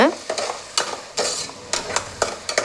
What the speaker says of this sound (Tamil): இப்போ அரைச்சி வச்ச தக்காளி வந்து ஆட் பண்ணிக்கலாம் இதையும் நல்லா வதக்கி விட்டுக்கோங்க